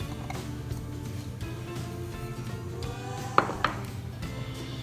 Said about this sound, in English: So first, we will sift together the dry ingredients.